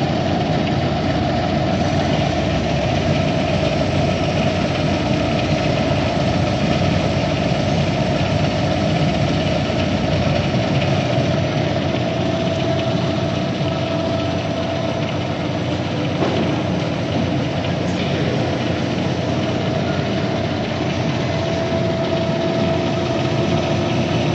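Metal lathe taking a heavy, deep cut while taper turning with the compound rest slide: a steady, loud machine drone with a constant hum and continuous cutting noise, no speech.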